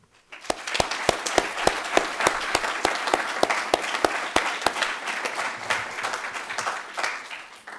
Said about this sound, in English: Please join me in a very sincere and thankful applause to these wonderful supporters